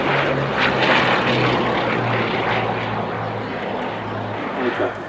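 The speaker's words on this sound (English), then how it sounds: "this, the world's sole airworthy Blenheim, has been completed now in this short-nosed form of Mark I elite fighter configuration" A Bristol Blenheim Mk I in short-nosed fighter configuration, the sole airworthy example, passes at an RAF air show at Cosford with a steady, loud piston-propeller drone that stays strong throughout.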